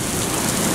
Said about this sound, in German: Hier kam gerade Hagel von